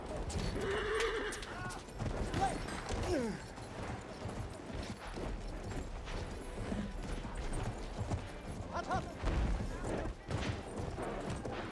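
Horses whinny and neigh amid a busy, noisy Battlefield 1 battle scene with clattering hooves, distant gunfire-like bangs and voices in the background.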